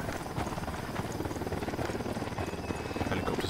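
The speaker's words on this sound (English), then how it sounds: "Helicopter's directly above us." A helicopter in Ghost Recon Wildlands hovers directly overhead, a steady rumbling rotor chop filling the whole stretch at moderate loudness.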